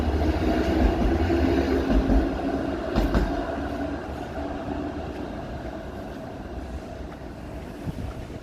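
Toronto streetcar rumbling along Queen Street East, a steady low rolling rail noise with faint clatter, nearby and continuous for the whole stretch, no voices.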